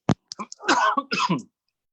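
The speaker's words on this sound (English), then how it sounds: "Got a nice cough into the elbow" A single close cough followed by a rough throat-clearing rumble, then silence.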